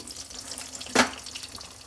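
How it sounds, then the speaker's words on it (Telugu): Chana dal, cumin, mustard seeds, dried red chillies and curry leaves sizzle in hot oil for a snake gourd fry, a steady close hiss with one sharp spluttering burst midway. "శనగపప్పు, జీలకర్ర, ఆవాలు, ఎండుమిరపకాయలు, కరివేపాకు అవన్నీ వేసేసుకొని"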